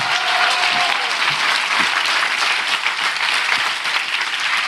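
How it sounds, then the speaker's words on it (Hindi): A congregation at a Hindi-language church service claps for the Lord Jesus, loud sustained applause filling the hall, dense and steady for several seconds with no talk over it. "आप इससे अच्छी ताली बजा सकते हैं"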